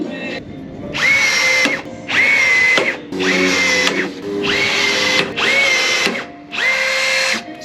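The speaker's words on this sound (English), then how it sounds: "So Stacey just needs the sander and the grinder." A power sander or grinder works on a glass bottom boat, running loud and close in six steady bursts of roughly a second each, with brief drops in pitch and load between passes.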